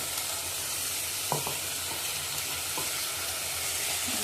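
Spices fry in a pan with a dense, steady hiss of sizzling oil, broken by a few light clicks and taps of stirring, close and even throughout.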